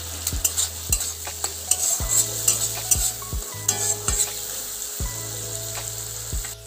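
Masala paste, slit green chilli and chopped tomato frying in a pan for a fish curry, a bright steady sizzle with regular spatula knocks and scrapes every second or so, up close.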